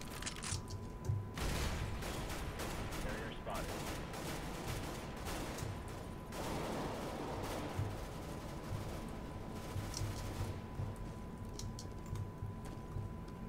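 Rapid bursts of P90 submachine gun fire in the CS:GO video game, dense repeated shots in quick volleys with brief pauses, loud and close, with game mechanism clicks in between.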